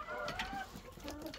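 Chickens clucking softly in a sunny yard, a few short murmuring clucks at a low level over faint background noise.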